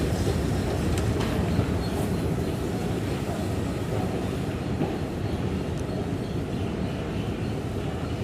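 New York City subway train in Manhattan arriving at a station, a steady loud rumble and rolling roar of wheels on track that holds evenly throughout, with no talk over it.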